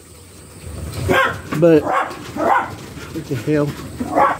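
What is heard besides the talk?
dogs barking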